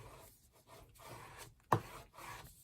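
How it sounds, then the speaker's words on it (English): A clear acrylic stamping block is rubbed by hand over card stock, giving soft scuffing strokes with one sharper tap near the end, quiet and close with no talking. "I'm going to go ahead and use my clear block. And I'm going to go ahead and just rub that."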